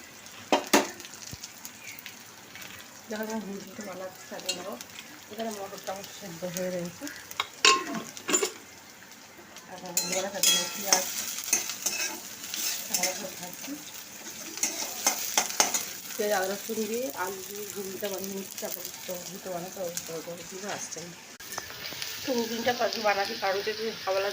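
Ghugni, a dried pea curry, stirred and frying in a pan: soft sizzling with repeated spoon scrapes and clinks against the pan, irregular and close, with someone talking over parts of it.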